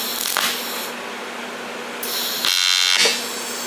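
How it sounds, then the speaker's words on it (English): A TIG welder buzzes and hisses in steady electric bursts while filler rods are fused together, starting and stopping a few times at close range, loud and sustained, with no talking. "See if I'm good enough to weld my filler rods together."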